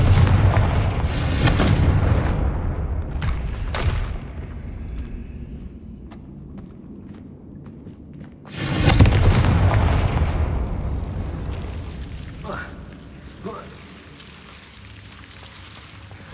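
Confringo fire spells burst twice in Hogwarts Legacy, each a loud close boom with a crackling tail that fades slowly, with faint clinks and rattles in between.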